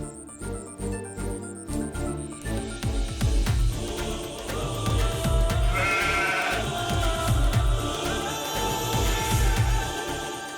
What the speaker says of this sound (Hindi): बकरी की चिल्लाने की आवाज आ रही है,